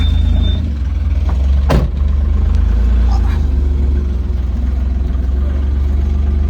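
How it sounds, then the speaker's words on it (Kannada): A motor vehicle on the road gives a loud, steady low engine rumble throughout, broken by one sharp click near the start. "ಗಾಡಿ ಹೋದ ಇವಾಗ ಏನು ಸಮಸ್ಯೆ ಇಲ್ಲ"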